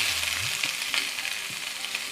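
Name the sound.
kohlrabi and green onion frying in a pan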